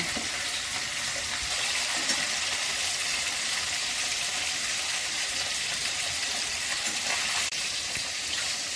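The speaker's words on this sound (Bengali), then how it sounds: "অলরেডি আমি তেল গরম হয়ে গেছে, মাছ ভাজতে শুরু করে দিয়েছি।" Pieces of rohu fish fry in hot oil for a curry, giving a steady, dense sizzle with a constant spattering hiss that runs unbroken throughout, close and fairly loud.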